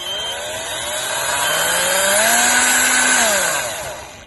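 A cordless drill with a weak, faulty battery whirs up unevenly, its motor pitch rising, holding and then sagging as it runs slowly, loud and close with no other sound.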